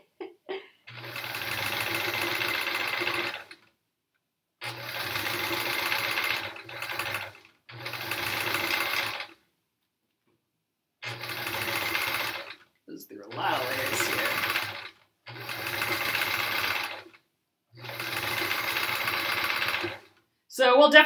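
A sewing machine does free-motion random stitching in repeated bursts of fast, steady mechanical whirring two to three seconds long, separated by short quiet gaps, close by.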